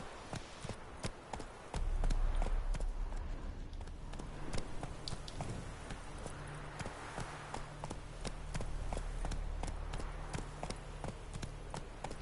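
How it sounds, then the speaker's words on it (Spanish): Horse hooves clip-clop at a steady walking rhythm in The Witcher 3: Wild Hunt on PS4, a close, regular beat of sharp knocks over a low rumble of ambient game sound. "Voy a dejar aquí el caballo."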